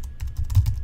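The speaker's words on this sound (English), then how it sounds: "I'm going to type in password" Quick run of keystrokes on a computer keyboard, about seven light taps in fast, slightly uneven rhythm, close and clear with no talking.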